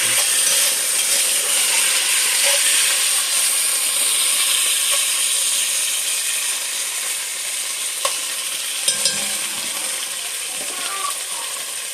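Beef cubes searing in a hot pan for a hearty stew, giving a steady close sizzle that eases slightly over time, with a few small clinks near the end and no speech.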